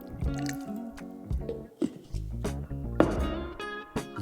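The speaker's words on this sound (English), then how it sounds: "Use a potato masher to break it into a smooth, liquid consistency." A potato masher working ground meat in water: repeated wet squelches and squishes, with soft drips and a slow, uneven pressing rhythm, close and moderately loud.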